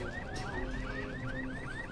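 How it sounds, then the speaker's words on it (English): Electronic alarm in the video game Dying Light, a repeating rising whoop cycling rapidly and steadily over a dense noisy background, continuous throughout. "How do you turn this stupid alarm off?"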